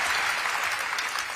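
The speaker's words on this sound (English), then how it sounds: "Rapturous applause, Luke. You've got a standing ovation." An audience at a large Reform UK political rally in Birmingham gives a standing ovation, a dense, even roar of sustained clapping heard at a distance for a brief moment.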